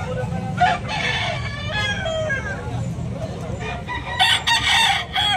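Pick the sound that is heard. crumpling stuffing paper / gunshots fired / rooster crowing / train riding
rooster crowing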